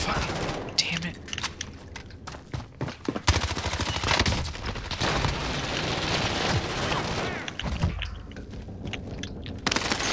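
Dense, sustained gunfire in the video game Call of Duty Warzone, rapid crackling bursts close by that run for several seconds with short breaks, while people talk over it.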